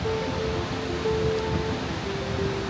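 The Rouget waterfall at Sixt-Fer-à-Cheval roars as a steady, even rush of falling water, moderately loud and unbroken, with faint tonal hums drifting over it and no one speaking.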